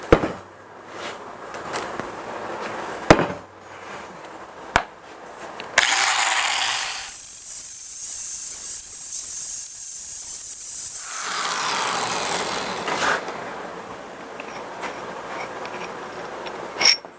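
A grinder smooths welds flush on a shop crane. The loud, steady, hissing grind lasts about six seconds mid-clip, with scattered metallic clanks and taps before and after.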